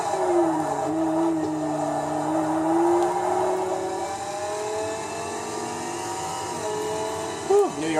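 A Dodge Viper's engine drones and revs through a Forza racing game street race in New York, with rising and falling gear tones and a sharp upshift near the end, while a player talks over it.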